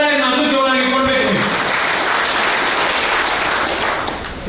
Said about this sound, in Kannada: ಹೆಂಗಸರಿಗೆ ಒಂದು ಚಪ್ಪಾಳೆಯನ್ನು ಅದು ಜೋರಾಗಿ ಕೊಡಬೇಕು